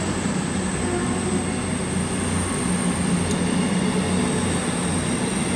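CrossCountry five-coach train 221137 departing Exeter St Davids station for Edinburgh on a Sunday afternoon, a steady diesel rumble and rolling wheel noise, moderately distant and continuous, with no talk.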